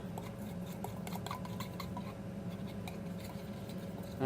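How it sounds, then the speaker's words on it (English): A whisk stirs kitten formula in a small bowl, making a steady, faint scratching and light clinking that runs continuously with no talking. "I have this handy dandy whisk here and a little bowl, so I'm just gonna"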